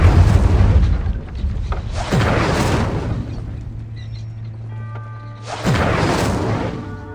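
An Incendio fire spell in Hogwarts Legacy lets out two loud, booming blasts with a long rumbling tail between them.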